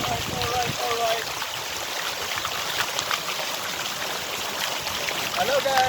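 Water in a garden stream flows with a steady rushing hiss, close and continuous, while a person talks over it at the start and end.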